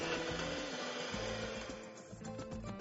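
An electric mixer beats espresso frosting thinned with milk, giving a steady, close whirring drone that rises and dips slightly as it churns, with no voices.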